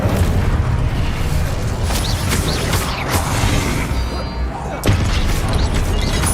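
Fiery spell blasts in Hogwarts Legacy, loud booming bursts and crashing impacts over a dense, continuous battle roar, with a sharp hit near the end and a voice calling spell names.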